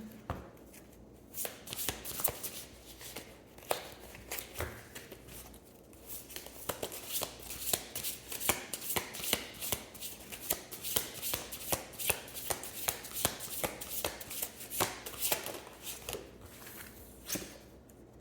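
Tarot cards being shuffled by hand close up, a dense run of rapid papery riffles and slaps that continues with brief pauses throughout, with no talking.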